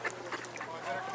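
Ducks quack in a few short bursts at a dragon boat festival in Canada, faint and at a distance, with people talking over them.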